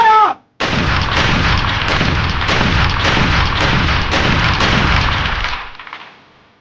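Soldiers' rifles fire a loud, rapid volley after a fire command, the cracks running together into a continuous barrage that cuts off and fades into echo.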